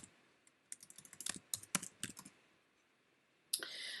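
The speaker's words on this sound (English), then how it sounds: "So if I type in landscape here," Short burst of typing on a computer keyboard, a quick run of close, crisp key clicks for about two seconds, followed by a louder sustained rustle at the end.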